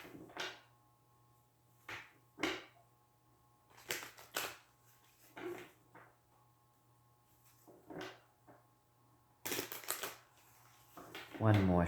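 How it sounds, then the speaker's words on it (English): Tarot cards being shuffled by hand, in separate riffling bursts spaced a second or two apart, with a longer flurry of shuffling near the end over a quiet, low background hum. "One more shuffle."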